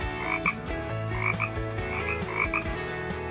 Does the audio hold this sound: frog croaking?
yes